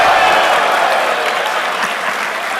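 Live crowd applauding loudly after a price-cut announcement for the WINWING Cyber Taurus force-feedback product at a launch event, steady dense clapping filling the whole stretch.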